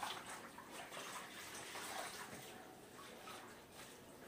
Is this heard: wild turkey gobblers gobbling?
no